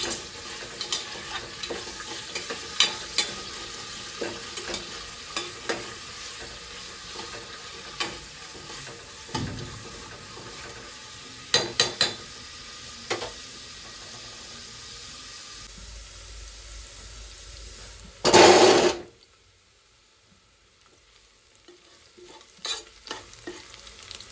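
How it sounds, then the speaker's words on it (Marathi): Chopped onion sizzles softly in a pan as a spoon stirs it repeatedly for a vegetable pulao, giving scattered scraping clicks. A brief loud rush of tap water cuts in near the end, and no one speaks. "कांद्याला जे आहे व्यवस्थित भाजून घेऊया।"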